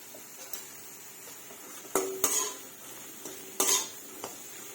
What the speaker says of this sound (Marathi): भाज्या नरम होईपर्यंत व्यवस्थित परतायच्या